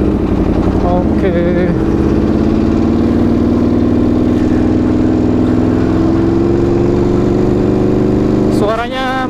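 An Aprilia RSV4 RF motorcycle engine runs loud and close, holding a steady idle-like drone before rising revs near the end, with no talk over it.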